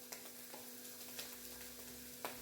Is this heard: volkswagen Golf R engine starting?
no